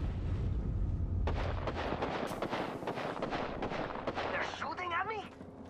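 Gunfire in Apex Legends crackles in rapid repeated shots over an explosive rumble, loud and close, with a voice speaking briefly near the end.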